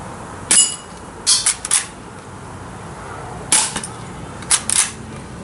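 A C10A gun fires glass, plastic and steel balls, producing a series of sharp, close snapping shots, some single and some in quick pairs, spread across a few seconds with quiet gaps between them.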